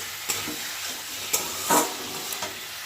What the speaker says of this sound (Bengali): তো পেঁয়াজটা ভেজে নিয়ে একটু আদা রসুন দেবো